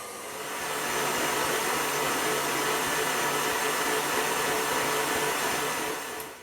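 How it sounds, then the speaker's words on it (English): An electric mixer whisks sabayon custard for chocolate mousse in a bowl, a steady loud motorized whir holding evenly for several seconds before winding down at the end. "I've just finished whisking my sabayon"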